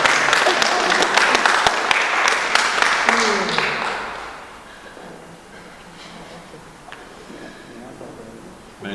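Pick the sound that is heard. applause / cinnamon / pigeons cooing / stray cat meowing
applause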